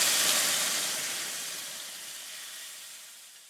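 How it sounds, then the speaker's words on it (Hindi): Marinated chicken pieces frying in hot oil, a steady broadband sizzle and hiss that starts loud and slowly fades over a few seconds, with no voices. "ये सारी चिकन हम इस ऑयल में डाल देंगे, और इसे अच्छा सा एक गोल्डन कलर आने तक फ्राई करेंगे"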